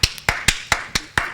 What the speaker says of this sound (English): Why can't you clap?